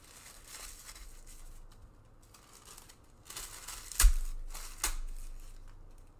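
Tissue paper heart being torn and crumpled: faint, scattered crinkles and short rips, building to a few louder, sharper tearing bursts toward the end.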